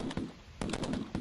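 Shotgun fire at a goose hunt, a quick series of loud sharp blasts in two bursts, a few shots each, close and outdoors.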